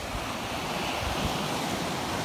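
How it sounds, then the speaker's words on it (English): Ocean waves break into thick froth at a rocky beach, a loud, dense, continuous roar of churning surf and hiss close by, with wind buffeting the microphone and no voices. "This is solid froth, waves coming in, I'm getting rolled."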